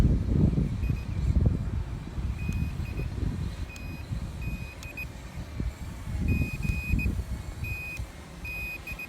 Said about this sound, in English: that beeping you're hearing is the recording going.